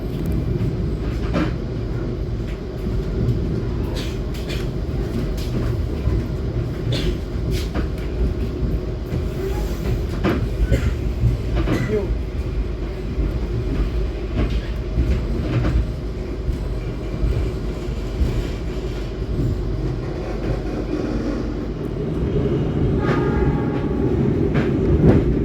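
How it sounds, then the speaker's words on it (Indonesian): The Jayakarta long-distance passenger train approaching Klaten station in Indonesia: a loud, sustained rolling roar of wheels on track, with rhythmic clickety-clack and rattling throughout, swelling slightly near the end. "Kereta api Jayakarta akan segera merapat di stasiun Klaten."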